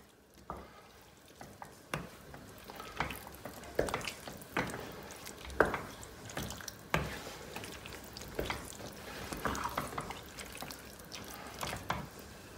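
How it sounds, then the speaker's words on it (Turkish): Cooked dry beans stirred in a pot: a spoon scrapes and clacks against the pot in a steady series of sharp knocks, with wet sloshing and soft bubbling between strokes, close by and alone. "Bir karıştıralım."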